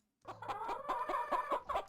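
Chickens cluck in a busy, repeated chatter, fairly close and continuous after a brief silent start.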